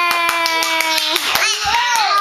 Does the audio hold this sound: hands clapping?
yes